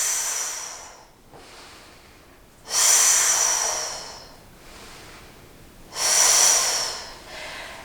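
Deep, forceful breaths are drawn in and pushed out during a deadbug core exercise, with three strong airy bursts and quieter breaths between them, close to the listener and with no talking.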